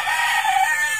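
A rooster crows loudly nearby, its bright, sustained call ringing clearly with no one talking.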